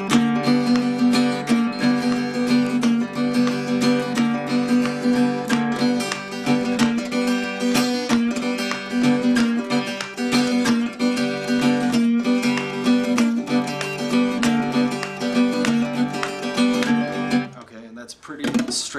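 An acoustic-style blues guitar plays a repeating riff in hill-country style, a steady driving pattern that keeps going for nearly twenty seconds before a brief pause and a strum at the end.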